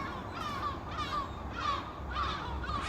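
Seagulls call as an ambient loop in a Foundry VTT tabletop game session, with repeated harsh cries at a moderate distance spaced about half a second apart over a low, steady background.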